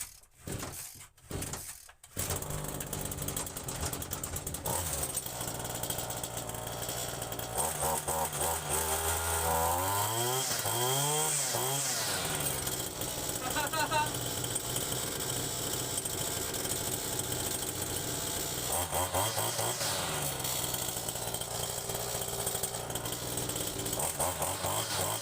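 A Kawasaki TJ27 small two-stroke engine catches after a few choppy pulls, then runs continuously with a buzzing, chainsaw-like drone that rises and falls in revs, loud and close throughout.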